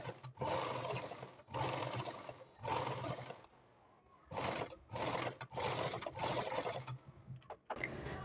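A sewing machine stitches piping onto a blouse back neck in several close bursts of whirring, each a second or two long, separated by brief pauses, with no talking.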